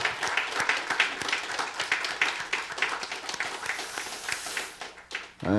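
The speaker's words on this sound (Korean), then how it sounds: "우리 하나님께 영광의 박수 올려드립니다" A church congregation at a New Year's Eve service claps for God, a fairly loud, dense burst of applause that carries on for about five seconds before breaking off abruptly.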